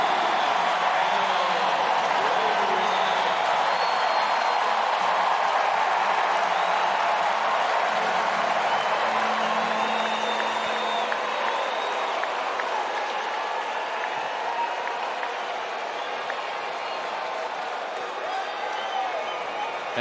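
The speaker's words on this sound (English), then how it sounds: "The crowd is going wild." Large baseball stadium crowd roaring and cheering during a Marlins vs Cardinals game, a dense, steady wash of noise filling the whole stretch with some clapping mixed in, easing slightly toward the end.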